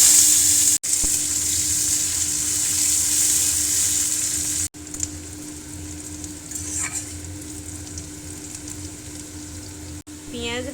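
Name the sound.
onions frying in oil with tempering spices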